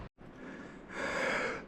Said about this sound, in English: Cue the heavy breathing.